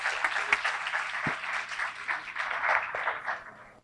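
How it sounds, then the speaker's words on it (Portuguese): An audience at an inaugural university lecture applauds to welcome the guest speaker, a dense burst of clapping lasting a few seconds before cutting off. "uma salva de palmas inicial para o nosso convidado"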